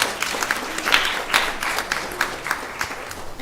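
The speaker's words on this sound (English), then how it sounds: "So please give them a big round of applause." Lively applause from a modest gathering at a temple celebration of Lord Caitanya's appearance, honoring devotees, with individual sharp claps standing out in a quick, uneven rhythm.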